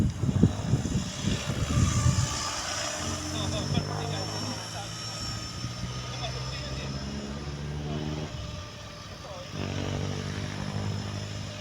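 A Trex 500 RC helicopter fitted with an MD500 scale body flies at an open field, its steady rotor and motor whine holding fairly constant throughout while people talk nearby.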